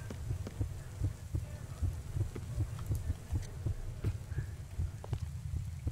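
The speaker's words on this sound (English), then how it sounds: "What's that noise? What's the heartbeat?" Heartbeat in the horror video game Kidnapped, a steady, low, throbbing double pulse repeating close and prominent across the whole stretch, with faint game ambience behind it and no talk.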